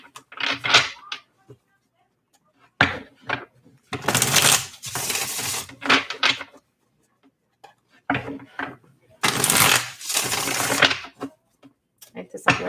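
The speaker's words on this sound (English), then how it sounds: "this will be our last shuffle." Tarot cards are shuffled by hand in several loud, close bursts of rapid riffling and flapping, separated by short pauses.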